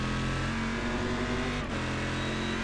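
GT1 race car engine at Watkins Glen in iRacing, a loud steady high-revving drone held close and constant, with a brief dip as the throttle shifts before climbing back.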